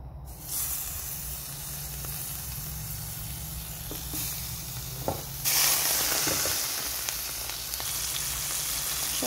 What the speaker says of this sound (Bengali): এখন আমি এই তেলের মধ্যে সব মাছটি দিয়ে দিব।